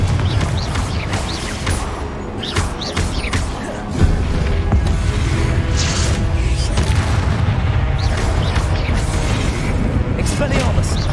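Confringo blasting-spell explosions in the Hogwarts Legacy game, a dense run of booming blasts and bursts over a constant low rumble of combat, with one sharp impact standing out partway through.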